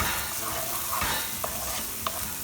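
Brussels sprouts with fresh ground pepper sautéing in a pan, a dense steady sizzle with occasional soft stirring scrapes and clicks, close and continuous with no talking.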